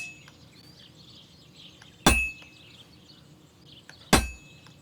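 Hammer strikes an anvil at a blacksmith's forge in Kingdom Come: Deliverance II, two sharp ringing clangs about two seconds apart, each with a brief metallic decay over quiet ambient background.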